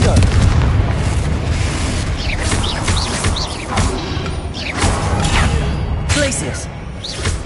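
Confringo spell blasts in Hogwarts Legacy explode as loud booming bursts amid continuous combat effects and game music, with a character shouting spell names over the noise.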